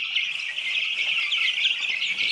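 A dense chorus of chickens fed starter feed in a coop, giving a continuous, fairly loud chatter of overlapping clucks and chirps up close.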